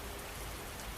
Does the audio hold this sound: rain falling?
yes